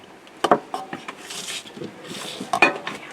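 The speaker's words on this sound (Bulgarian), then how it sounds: "Сега Разбъркваме хубаво." A utensil scrapes and knocks against a bowl as cake batter of flour and oil is stirred, with a few sharp clinks amid softer rubbing strokes, close up.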